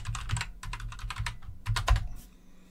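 A password being typed on a computer keyboard, a quick run of close, crisp key clicks in an uneven rhythm with a short flurry near the end, then quiet.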